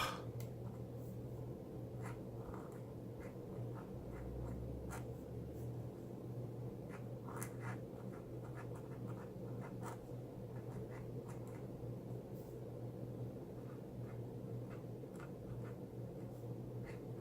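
Jinhao 159 fountain pen nib scratching across paper, faint continuous writing strokes with small ticks over a steady low room hum, no voices.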